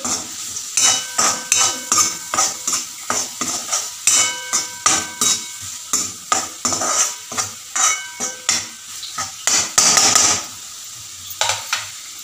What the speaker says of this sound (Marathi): त्याच्यानंतर याच्यात थोडासा शेंगदाण्याचा कूट टाकते आणि परत त्याला परतवून घेते